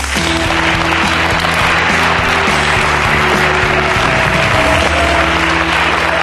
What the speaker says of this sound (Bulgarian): Моля аплодисменти за Кристина Сунгарска.